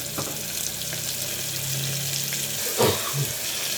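Cluster bean curry base frying in a pan, a steady close sizzle that runs throughout with a few clinks and stirring knocks near the end.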